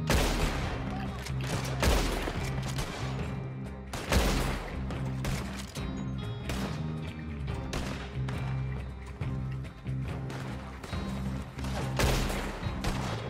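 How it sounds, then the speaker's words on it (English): Gunfire and a blast in the Red Dead Redemption Online western shootout game, where a shot hits an explosive barrel: dense, continuous volleys of rifle and pistol shots crackle throughout, with loud bangs and a heavy boom standing out in the din. "Holy hell, I shot somebody and they blew up."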